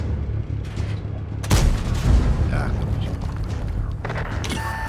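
Artillery fire in a tank battle video game, a heavy booming blast with a rumbling tail amid mechanical game sounds, a commentator's voice running over it.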